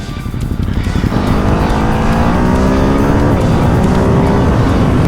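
A 2024 Ducati Hypermotard 950 SP motorcycle engine fires up and revs loudly up close. The rough, throbbing roar rises in pitch over a few seconds and runs continuously without any talk.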